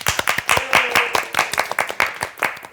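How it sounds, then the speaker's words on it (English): A few people clap in a short round of applause, the claps sharp and close with an uneven rhythm, lasting under three seconds. "Give yourself a round of applause."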